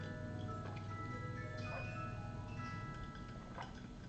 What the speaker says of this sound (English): I'll let you guys hear my cuckoo clock.